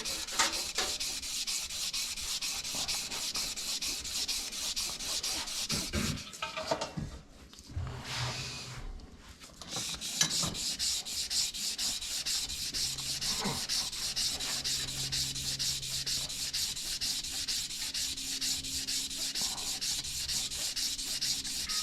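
An engine journal on a 1966 C2 Corvette being hand sanded with 600 grit sandpaper, a continuous rapid back-and-forth rubbing with a brief pause partway through, close and steady.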